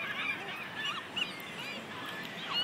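Seagulls being fed call repeatedly at close range, overlapping squawks and cries rising over a soft background wash, fairly quiet overall.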